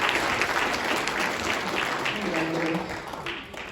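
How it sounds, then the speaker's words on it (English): An audience claps warmly for several seconds at a church-style gathering, dense steady applause that begins to thin out as a voice starts speaking near the end. "Why don't you give her a round of applause?"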